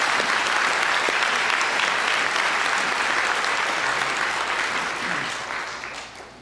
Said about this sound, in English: So would you please join me in a round of applause to express our deep gratitude to all